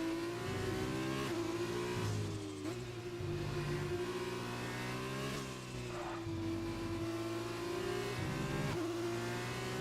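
Race cars in the RP1 Arena sim racing game battle for position at the Hungary round, engines droning and revving steadily at close range while one car overtakes another.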